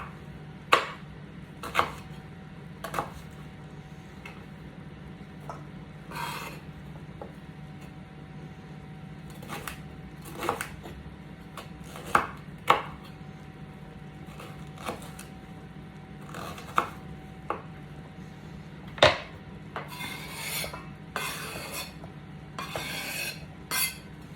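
Knife chopping vegetables on a board for beef stew, a series of sharp, fairly faint, irregularly spaced cuts against a steady low kitchen hum, with a quicker cluster of chops toward the end.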